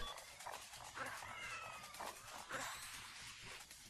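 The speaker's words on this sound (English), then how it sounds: "More cats." Cartoonish cat meows and whines from the Tokyo Jungle video game, several overlapping calls over a busy game soundtrack, fairly steady and moderately loud.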